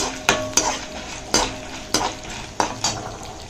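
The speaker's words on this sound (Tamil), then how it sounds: "இப்போ இது நல்லா கோல்டன் ப்ரௌடாக வறுப்படைக்கும்" Black pepper and fenugreek dry roasting in a pan for a tamarind and curry leaf paste, stirred with a spatula that scrapes the metal in about six distinct strokes over a soft, dry rattle of seeds.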